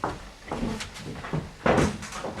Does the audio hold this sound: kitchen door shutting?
yes